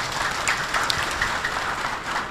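Audience applause at an award ceremony, a steady dense patter of clapping filling the whole stretch at moderate level, with no voices over it.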